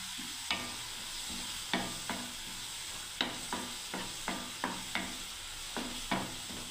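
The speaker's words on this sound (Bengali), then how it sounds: "কিছুক্ষণ আমি এটা মশলাটাকে কষিয়ে নিচ্ছি" Cumin and coriander powder fry in oil in a pan with a steady sizzle, while a spatula scrapes and taps the pan about every second.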